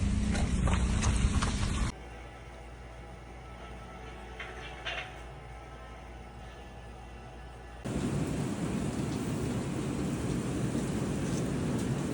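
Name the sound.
rain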